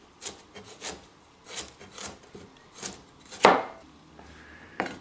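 A knife chops peeled garlic cloves into slivers for ma-po tofu, giving about eight crisp, evenly spaced cuts, close and clear, with one louder knock near the end.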